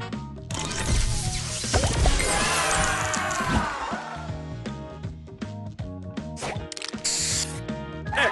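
Color Crystals game spray booster effect: a dense, loud burst of hissing spray, shattering crystal crashes and chiming clinks, followed by rapid scattered tones and a sparkling flourish.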